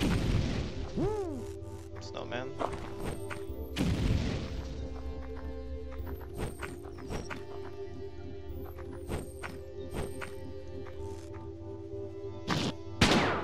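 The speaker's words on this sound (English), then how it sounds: "There's a lot of explosions." Heavy booms and sharp blasts in the video game Lisa the Painful burst out irregularly over a steady background drone, with a few quieter thuds and a single spoken word.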